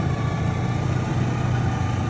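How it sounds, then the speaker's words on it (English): A loud, steady snowmobile engine drone with a low rumble runs continuously, close by and unvarying. "the sound of the engine underneath you"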